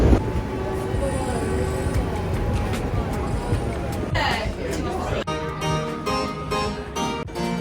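A rush hour New York City subway train rumbles and rattles steadily, with a crowd's murmur of voices underneath and occasional squeals and clanks of the cars.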